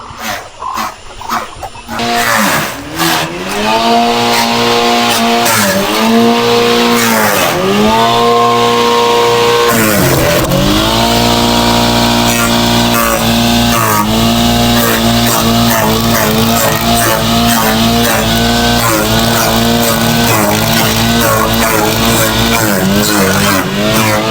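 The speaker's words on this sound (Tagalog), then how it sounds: "Nagsishredder na." A shredder machine grinds organic animal feed with a loud, continuous motor drone that revs up and dips several times before settling into a steady, close roar, with no talking.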